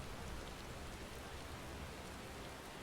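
Steady rain falling in the video game Final Fantasy XIV, a dense even hiss of drops with no breaks, fairly loud and uniform throughout.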